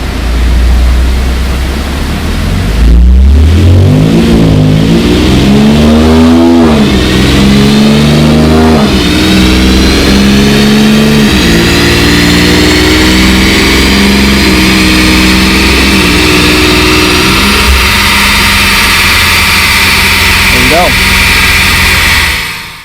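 Infiniti Q50 with a VR30 twin-turbo engine revving hard on a dyno, rising through the gears in loud sweeping pulls that climb to a sustained high-pitched scream, with a brief lift near the end.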